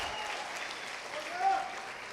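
A church congregation applauding steadily, a dense wash of clapping that swells slightly toward the end.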